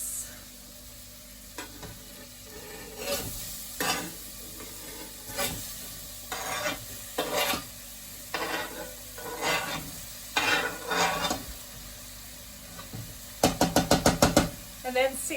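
Courgettes in a pan with honey, sizzling softly while a utensil stirs and scrapes in irregular bursts, ending in a quick run of rapid knocks.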